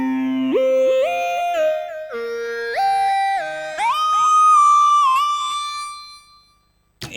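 A hard, mellow synth lead from the Vital synthesizer with a formant filter plays a bright, stepping melodic line of sustained notes rising in pitch, alone and upfront, ending in silence.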